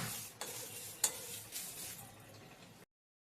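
Spices for mango pickle dry-roast in a pan, with a few sharp scrapes and stirs of a utensil over a faint crackle, before the sound cuts off into silence.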